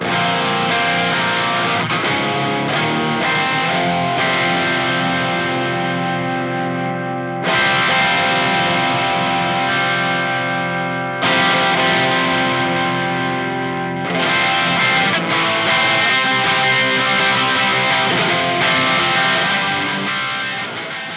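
Electric guitar played through the crunch channel of a Peavey 6505+ amp, heard as loud, close, sustained distorted chords ringing out and decaying in several phrases with brief gaps, no talking.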